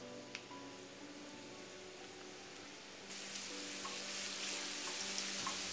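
Chopped garlic, ginger and two bay leaves sizzle in two tablespoons of hot oil in a pan or wok, a soft steady frying crackle that grows louder and brighter halfway through, with no talking.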